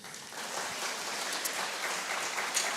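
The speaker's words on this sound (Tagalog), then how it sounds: "Palakpak!" Church congregation applauding during a 43rd anniversary service after a children's choir from the church academy is introduced, dense clapping steady and fairly close for a few seconds.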